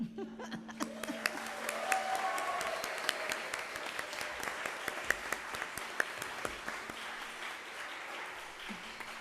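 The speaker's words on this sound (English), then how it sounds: "So if you clap loud enough, I'll bet they'll hear you." A church congregation at a Unitarian Universalist service claps in thanks for nursery staff, a moderate, even patter of many hands with a few louder individual claps, plus light laughter and a faint voice in the room.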